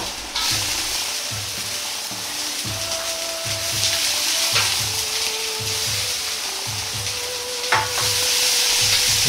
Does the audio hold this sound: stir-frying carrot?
yes